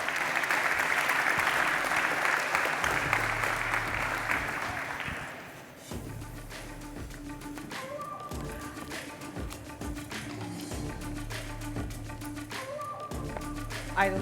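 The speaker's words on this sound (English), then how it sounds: "So please, everybody, a warm round of applause for Alexandra Spalato" A conference audience applauds a developer relations engineer from Storyblok, the clapping dense for about six seconds before fading as low musical tones and taps take over.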